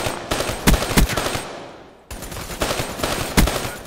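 Heavy automatic gunfire in Black Ops III on PS4, with loud, continuous bursts and sharp individual shots standing out. The fire drops away briefly in the middle, then resumes at full intensity.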